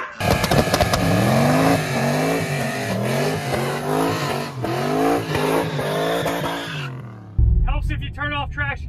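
A turbocharged junkyard Corvette launching hard, loud engine roar rising through the gears with squealing tires, nearby and continuous, followed by voices talking.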